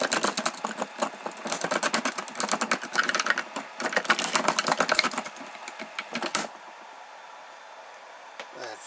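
Shredder for 3D-printed parts driven by a wiper motor, grinding and clattering in rapid, uneven bursts for about six seconds before stalling, followed by near quiet.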